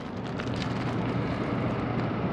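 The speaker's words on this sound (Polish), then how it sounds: "leci jakiś jakiś śmigłowiec" A helicopter passes over the bank of the Thames in London. Its steady, distant rumble blends with broadband wind noise and holds at an even level throughout, with no talking.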